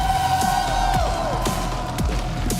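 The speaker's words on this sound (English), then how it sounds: "Nice little reaction from the crowd there for one of North America's most established rosters, led by Sugar Free." An esports crowd at an Overwatch Champions Series group-stage event cheers and whoops as a North American team walks onto the stage, a steady roar with sporadic shouts under a venue's ambient noise.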